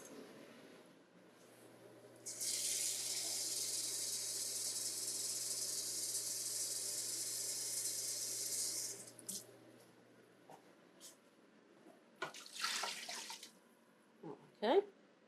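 Water streams steadily into a pot of big smoked turkeys for about seven seconds, a close, bright pour, followed by a few light clinks and knocks.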